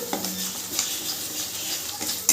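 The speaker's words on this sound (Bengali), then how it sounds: "একটু নাড়াচাড়া করে নেব যাতে পোস্তর কাঁচা গন্ধটা না থাকে" Ground poppy seed paste stirred into garlic in a hot pan for a pabda fish curry, with a low sizzle and close spatula scrapes and clinks against the metal.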